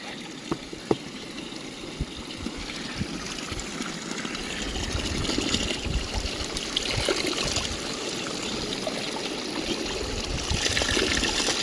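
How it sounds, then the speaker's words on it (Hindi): A water bottle is filled beside the clear Gori river in the mountains of Uttarakhand, a continuous close trickle and gurgle of flowing water over the rushing stream, with a few small knocks early on and no talking. "एक बोतल और भरता हूँ, एक बोतल और भर लेता हूँ।"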